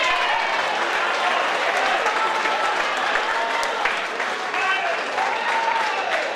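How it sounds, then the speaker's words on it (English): Dense, sustained applause from the audience at a live Jamaican stand-up comedy show, loud and continuous from start to finish with crowd noise mixed in. "I'm going to give a little clap to thank God."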